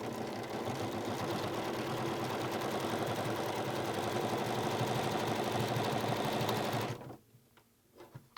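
A sewing machine runs steadily for about seven seconds, stitching quilt binding held with wonder clips, with a fast even mechanical whir before it stops abruptly. A few faint handling clicks follow.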